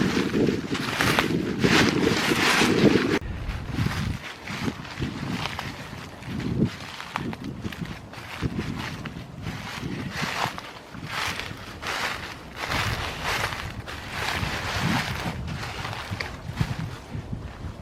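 Steady outdoor wind gusting across the microphone during an off-trail hike down a steep hill in a park on a dark, cloudy February morning, loud and buffeting throughout, with a heavier blast in the first few seconds.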